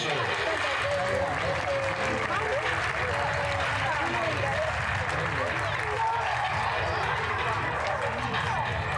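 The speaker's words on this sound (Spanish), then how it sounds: "fuerte el aplauso" Audience applause at the grand final of a Galician karate league, a dense continuous wash of clapping filling the whole stretch, with crowd voices murmuring underneath.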